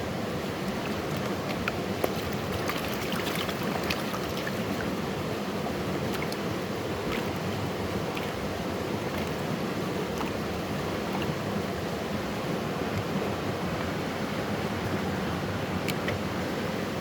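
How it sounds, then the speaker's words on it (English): A creek's steady rushing water flows continuously at a moderate distance, a broad even wash with a few faint clicks and no voices. "It's nice, that creek sound in the background."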